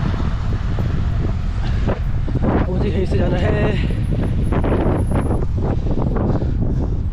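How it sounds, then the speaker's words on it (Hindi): Strong wind buffets the microphone while cycling outdoors, a loud, constant rumbling roar with gusty surges beneath a voice. "बहुत तगड़ी हवा चल रही भाई, बहुत तगड़ी हवा।"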